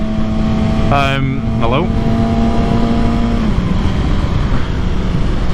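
Motorcycle engine running steadily while riding, a loud continuous drone with a brief rising rev, a voice briefly speaking over it.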